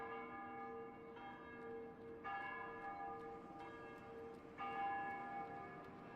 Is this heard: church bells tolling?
yes